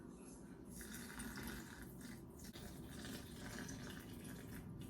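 Cold water pours slowly over coffee grounds in a Tupperware cold brew carafe, a soft continuous trickle and splash with a faint steady liquid hiss, close and quiet, with no talking.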